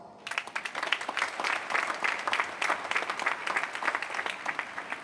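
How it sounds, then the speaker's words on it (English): Audience applause fills a university graduation ceremony for the Class of 2026, parents and families clapping in a dense, steady, loud wash of many hands that holds throughout. "let's give ourselves a round of applause"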